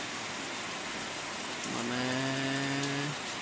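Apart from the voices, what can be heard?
rain falling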